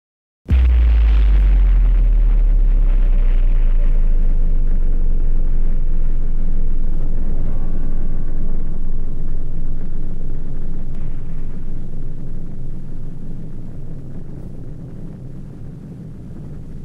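A 1946 atomic bomb test explodes in a lagoon with a sudden massive boom, followed by a deep, sustained rumble that rolls on and slowly fades over many seconds.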